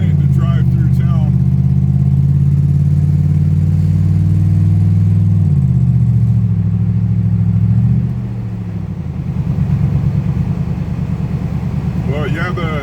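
A Ford Crown Victoria rolls through a small town, its steady mid-pitched engine hum close and loud, shifting tone briefly as it slows and picks up again.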